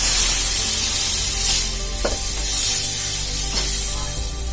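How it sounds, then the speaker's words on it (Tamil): Lentil water pours and splashes into a pot of sambar with a steady hiss, a few scrapes and clinks sounding along the way. "பருப்பு தண்ணி ஊற்றிக்கலாம்."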